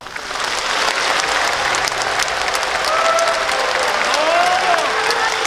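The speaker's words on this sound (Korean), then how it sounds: "다시 한번 힘찬 박수를 부탁드리겠습니다" An audience at a Korean commemorative ceremony and cultural event claps in a sustained round of applause that builds quickly and holds steady, with a faint tonal sound from a speaker system woven through it.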